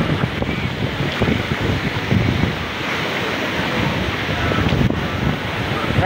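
Ragatan Falls at Mabato, Maragondon, Cavite, a continuous broad rushing roar of falling water with some wind buffeting on the microphone, steady and fairly loud throughout.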